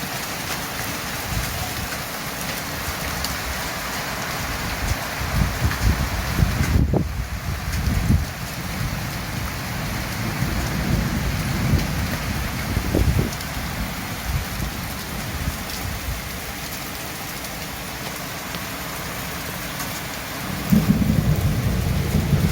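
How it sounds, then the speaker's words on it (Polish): Heavy rain from a hailstorm pours down without letup, with rolling thunder and gusts of wind. Sharper bursts of impacts rise and fall throughout, and no one speaks. "teraz niszczy ten grad wszystko"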